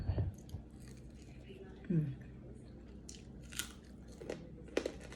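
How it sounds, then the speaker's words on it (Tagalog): Several crisp, crunchy bites and chewing sounds of crispy fried pork belly, close and sporadic, spread across a quiet background. "Malutong guys. Wala lang akong earphone eh. Microphone. Maririnig mo. Pumuputok sa aking bibig."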